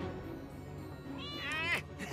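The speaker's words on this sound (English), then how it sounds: "I've come to save this kitty cat." A cartoon kitten in Marvel's Spidey and His Amazing Friends gives a short, rising meow near the end, preceded by faint background sound and followed by a brief second mew.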